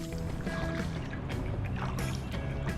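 Kayak paddling on Brice's Creek, with steady water swishing and trickling around the hull and paddle strokes close by, a continuous wet wash with soft drips and no talking.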